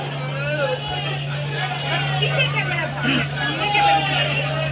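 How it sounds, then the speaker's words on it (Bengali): Crowd bustle at the Chandpur launch terminal as many people hurry to board a ten o'clock launch, a dense murmur of overlapping voices with a steady low engine hum beneath, close and busy. "লঞ্চ ঘাট দেখো দশটার দিকে লঞ্চ ছেড়ে চেপে অনেক মানুষ তাড়াহুড়ো করে আসতেছে এই হচ্ছে আমাদের চাঁদপুর লঞ্চ ঘাট"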